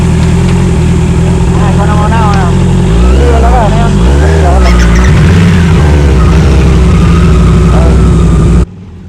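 A heavy Harley-Davidson cruiser motorcycle after an off-road ride, its low engine rumbling steadily and loud at close range with rising and falling revs, while people talk and laugh over it before it cuts off near the end.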